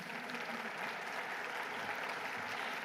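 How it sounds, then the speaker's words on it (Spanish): An audience at a university panel claps steadily to welcome a speaker, a dense, even wash of applause lasting the whole moment with no voices over it. "Brindemos para ella también un fuerte aplauso de bienvenida."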